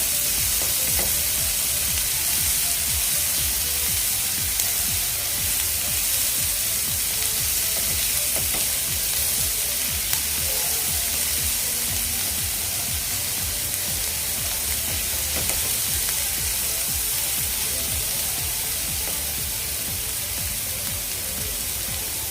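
Onion frying in a pan for anda tava masala, an even, dense sizzle holding steady close-up for the whole stretch, with faint stirring scrapes and no talk.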